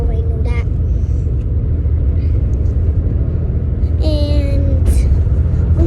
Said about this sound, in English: we're also driving the truck today